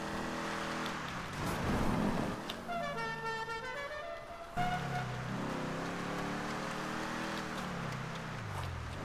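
The General Lee, the Dukes of Hazzard car, jumping in Grand Theft Auto V: a steady droning engine with swooping pitch, a brief break midway, then the motor roaring again at moderate level.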